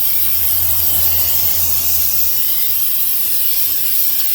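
Loud continuous aerosol hiss of brake cleaner sprayed onto the rear rotors of a 2014 Ford F350 dually, a steady close jet lasting several seconds with no talk.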